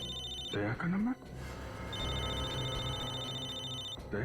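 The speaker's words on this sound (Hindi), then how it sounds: "दया इसके मोबाइल पे क्यों फोन कर रहा है?" A mobile phone rings with a steady, high, electronic ringtone that holds for a couple of seconds. It sits under a tense TV crime-drama scene with music and other sounds and has a brief rising tone before it.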